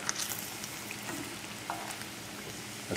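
Unbreaded smelts fry in hot oil with a steady, dense sizzle and crackle that runs the whole time, close and even, with a few sharper pops and no voices.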